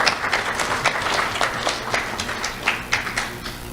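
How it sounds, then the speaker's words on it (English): An audience claps for students being honored at an awards ceremony, a loose patter of many hands with individual claps distinct, moderately close and steady throughout. "Let's have a round of applause for Javier and Jace."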